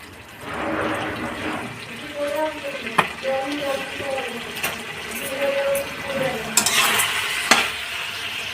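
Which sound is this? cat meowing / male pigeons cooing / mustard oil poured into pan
mustard oil poured into pan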